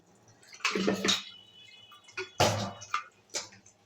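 Water poured from a cup into lentils in a pressure cooker, heard as a few short splashing pours separated by quiet gaps.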